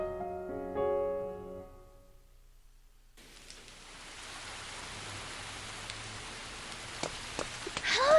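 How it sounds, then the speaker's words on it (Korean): Sudden rain beginning after a brief musical phrase and a moment of silence: a steady hiss of rainfall on surfaces, fairly soft and continuous, with a few scattered louder drops and no talking. "비가 그칠 때까지 좀 이따 갈까?"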